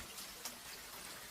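Steady soft rain falling in early spring, a continuous hiss with scattered faint drip ticks, even and gentle throughout.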